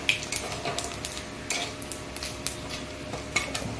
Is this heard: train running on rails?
no